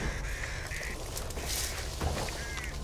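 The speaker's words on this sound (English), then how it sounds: "Birds there!" Harsh bird calls, crows cawing in the video game Back 4 Blood, repeat in short bursts over a busy, noisy in-game background, with no one speaking.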